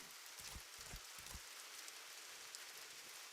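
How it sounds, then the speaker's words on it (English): Rain falls in a horror video game, a soft, steady hiss of drops with a few faint low thumps early on. "Use this to protect yourself from the rain and go back the way you came."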